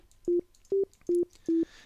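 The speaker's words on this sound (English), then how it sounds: "you'll notice that the default waveform is the sine wave within Oscillator 1" A pure sine wave tone from the default Oscillator 1 of the Caustic SubSynth synthesizer sounds four times in short, evenly spaced steady beeps, clear and alone.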